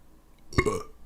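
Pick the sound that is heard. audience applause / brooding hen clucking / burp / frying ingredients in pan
burp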